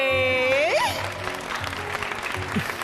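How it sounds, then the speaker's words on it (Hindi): Applause for a teacher in a Hindi-dubbed Thai drama, a spread of many claps under a dramatic voice and music-like tones, rising after speech and continuing at moderate level. "तो जोरदार तालियां हो जाए"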